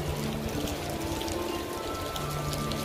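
Steady rain falls in Bermuda as a continuous dense patter on surfaces, close and even throughout, with faint low hums underneath and no one talking.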